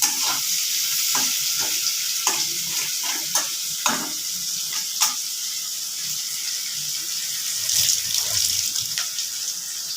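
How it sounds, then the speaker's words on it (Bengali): Onions frying with a pinch of salt in a pan for a prawn dish, a steady close hiss of sizzling oil with occasional soft clacks of a spatula stirring, fairly loud throughout and no talk. "পেঁয়াজের মধ্যে অল্প লবণ দেব তাহলে পেঁয়াজটা তাড়াতাড়ি ভাজা হয়ে যাবে"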